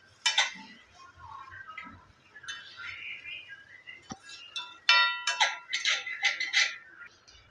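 A utensil stirring food in a pan after soy sauce goes in, with scattered clinks and scrapes of metal on cookware, some louder clusters near the end.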